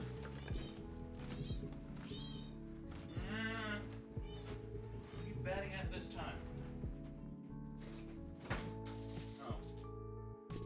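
A cat meows several times in a wavering, bleat-like voice amid household sounds, close and fairly loud, with a person talking around it.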